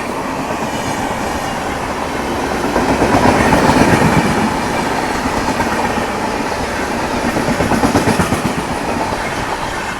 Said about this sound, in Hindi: सीमांचल एक्सप्रेस आनंद विहार टर्मिनल से होकर जोगबनी के बीच में चलने वाली सीमांचल एक्सप्रेस